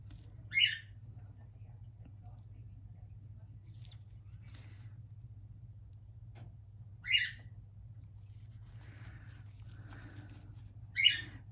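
A pet bird gives three short, sharp chirps spaced several seconds apart, faint against a low, steady indoor hum.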